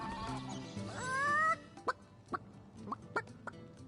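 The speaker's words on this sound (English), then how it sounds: "Don't let that rooster escape!" A rooster in the video game Divinity: Original Sin gives a rising crowing call, then a series of short, sharp clucks at irregular intervals, close and clear with no speech.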